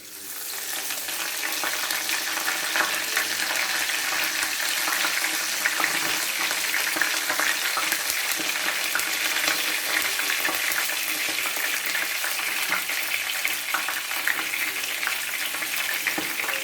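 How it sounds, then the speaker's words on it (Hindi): Curry leaves dropped into hot oil for a dhaba-style dal fry tadka sizzle and spit loudly and steadily, a dense crackling hiss that holds from start to finish with no talk. "जब करी लीव्स डालते हैं ना तो बहुत तेज़ जो है ऑयल के स्प्लैशेस ऊपर आते हैं"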